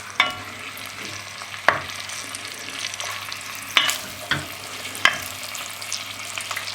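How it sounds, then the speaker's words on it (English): Beef chunks browning in a hot pan for bœuf bourguignon give a steady sizzle, broken by several sharp clatters of stirring as the pieces are turned, close and fairly loud with no talking. "Brown the meat on all sides."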